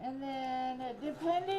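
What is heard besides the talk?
No everyday noise stands out behind the speech.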